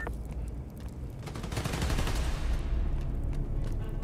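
Gunfire in the video game Spider-Man: Miles Morales, a loud, dense burst of rapid shots and crackling impacts that builds midway and keeps going steadily, with no voices.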